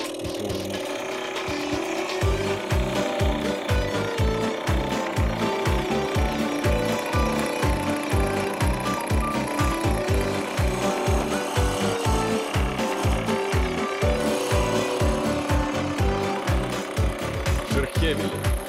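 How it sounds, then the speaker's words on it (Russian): Hand saw cutting through scrap wood for a wooden organizer, with steady back-and-forth strokes in an even rhythm for about sixteen seconds, close and fairly loud. "Пилим."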